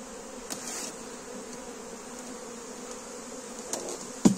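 Honeybees buzz steadily around a hive while a beekeeper expands July splits, a continuous close drone with a few soft knocks and a sharp clunk near the end.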